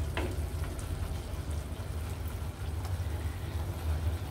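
Masala with onions frying in oil in a pan for a bitter gourd and prawn curry with coconut milk, a steady low sizzle and bubbling hum that holds evenly throughout with a few faint clicks, no voices.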